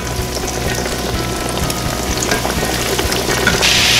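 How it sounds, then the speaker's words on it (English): Venison steaks frying in about half an inch of hot oil in a large cast iron skillet, a steady loud sizzle and crackle with dense popping throughout. "I have about 1/2 inch of heated oil in a nice large cast iron skillet. Gonna pick those steaks up and drop them in."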